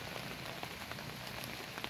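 Steady rain falls on a vegetable garden of bottle gourd vines, a dense, even patter of drops throughout with a few louder individual hits, with no voices.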